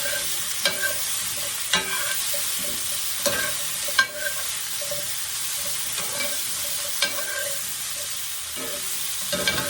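Vegetables sizzle steadily in a hot pan while a utensil stirs them, and soft scraping knocks recur every second or so over the constant frying hiss.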